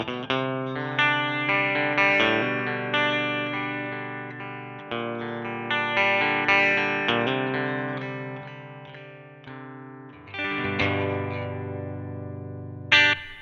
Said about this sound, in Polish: Zabawę zaczniemy od czystej gitary. Jest to PRS C24 wpięty w Victory V30.